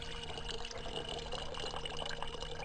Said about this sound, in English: Speaking of water, create water.